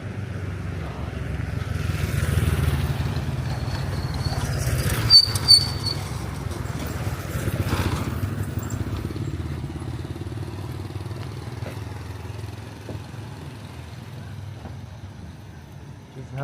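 Motorbike and traffic rumble on a busy street in Luang Prabang, Laos, a steady low drone with a few passing engines and clatter, continuous throughout, with a voice talking over it.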